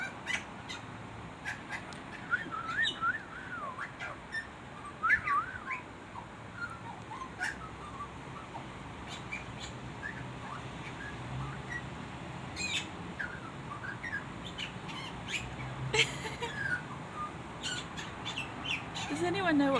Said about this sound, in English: Does anyone know what kind of bird this is?